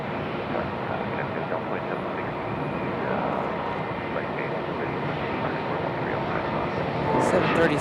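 A Delta Boeing 737-900 airliner moves at Raleigh-Durham International Airport, its engines giving a steady broad roar that swells slightly near the end, with people talking over it.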